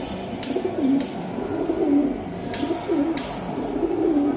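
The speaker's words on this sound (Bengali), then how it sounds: "পাল্লা লাইনের কবুতর অরিজিনালি" Palla line pigeons coo repeatedly at close range, soft rolling throaty calls in a loose rhythm, with a few brief sharp clicks or wing taps between them.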